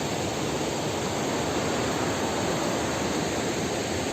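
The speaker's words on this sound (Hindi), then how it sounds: "आवाज़ थोड़ा आपको आज बेकार आएगी, क्योंकि आसपास झरने बह रहे हैं" Waterfalls rushing close by in the Uttarakhand hills near a water-powered grain mill, a dense, constant roar of falling water that fills the whole clip with no other sounds.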